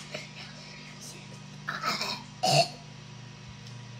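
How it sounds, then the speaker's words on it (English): A person clears their throat in short rough bursts, two distinct harsh throat sounds standing out over faint background noise, close to the microphone. "I have to clear my throat."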